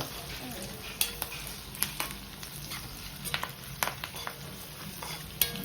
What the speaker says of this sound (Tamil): வதங்கும் போது உப்பு போட்டோம்னா சீக்கிரம் வதங்கிடும் வெங்காயம்.